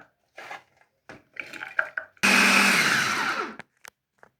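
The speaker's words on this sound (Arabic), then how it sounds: "وبعد ما خرطناهم كده هنضربهم في الكبة." An electric food chopper whirs loudly for about a second and a half as it blends chopped garlic, then winds down, preceded by soft knocks and clatter of handling.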